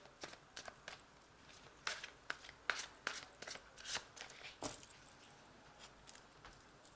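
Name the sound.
shuffling and drawing Fairy Tarot cards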